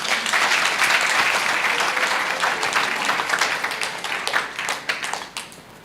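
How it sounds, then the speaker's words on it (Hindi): Congregation clapping for God during a Hindi-language church worship service, a dense wash of applause from many hands that starts loud and gradually thins out toward the end. "खुदा के लिए तालियां बजाइए।"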